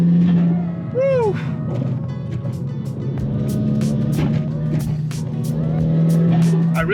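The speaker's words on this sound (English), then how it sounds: "I really hope the mic is able to capture the intake sound" A Volkswagen GTI fitted with a CTS Turbo cold air intake accelerates, its engine droning loudly and steadily from inside the cabin. A brief rising whoosh comes early, and the sound builds again near the end.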